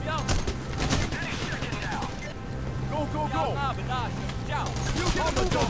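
Gunfire in the heist shooter PayDay: The Heist comes as quick bursts of shots, some rapid like automatic fire, mixed with game sound effects. Voices can be heard in the background throughout.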